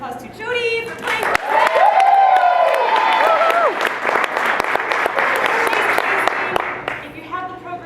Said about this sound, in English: Can we give a big round of applause to Jody for playing?